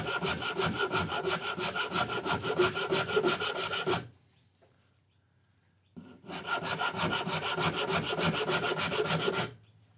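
Sanding the carved neck of a handmade guitar with fast, even back-and-forth strokes on wood. The close, raspy scraping runs in two long bursts separated by a brief pause.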